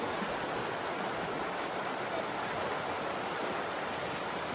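Fast-flowing river water near the Glenfinnan Viaduct in Scotland makes a steady, dense rushing wash. It is fairly loud and unbroken, with no voices or other distinct sounds.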